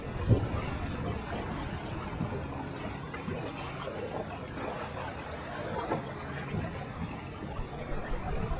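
A Farrier F-41 sailing catamaran moving briskly through water, with a steady rushing wash and hull swish mixed with wind noise, continuous and fairly loud throughout.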